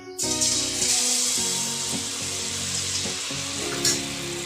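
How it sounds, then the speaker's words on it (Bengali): Malpua batter is dropped into hot white oil in a kadai and fries with a loud, steady sizzle and crackle, close up and with no talking. "তেল গরম হয়ে গেলে ব্যাটারটা এইভাবে ডাবুর সাহায্যে দিয়ে দিলাম"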